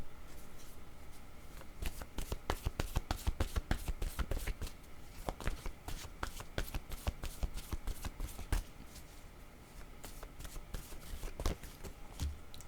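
A deck of cards riffled and shuffled for a card reading, rapid dense flurries of crisp flicks and snaps up close, repeating for several seconds with short pauses between bursts.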